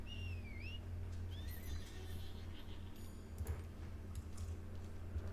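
A white horse in the video game Lost Ark whinnies with a rising, shrill call over a steady low hum and background game ambience, followed by faint clicks.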